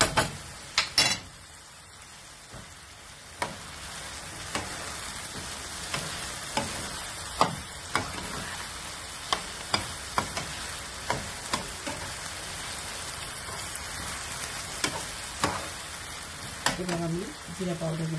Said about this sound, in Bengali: আলু পেঁয়াজ দিয়ে আমি প্রথমে ভাজতেছি